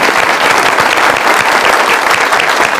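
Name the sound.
live show audience applause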